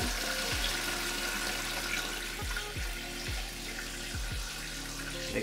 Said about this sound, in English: So what we want to do here is to cover all the bones with cold water.